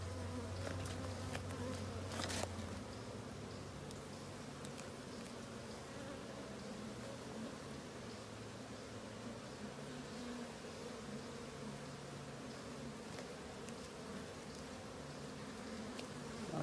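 Honeybees buzz steadily around an open hive during a queen cage follow-up inspection, a dense continuous drone with a few louder passes close to the microphone early on.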